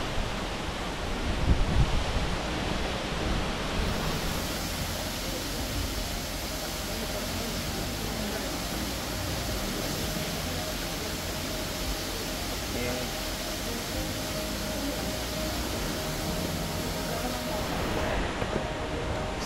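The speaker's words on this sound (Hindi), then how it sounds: "ये देखिए कितना खूबसूरत वाटरफॉल है, और ये आवाज़ सुन सकते हैं आप इस वाटरफॉल का।" Rainbow Falls waterfall in Meghalaya roaring as a dense, steady broadband rush that stays constant throughout, heard up close with someone speaking faintly over it.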